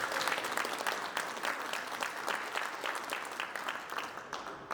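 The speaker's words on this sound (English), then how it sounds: "give yourselves a round of applause for such a good crowd tonight" An audience at a Greenbrier GOP District 46 House of Delegates debate claps together, giving dense, steady applause that fills the room for about five seconds without a break and with no one speaking over it.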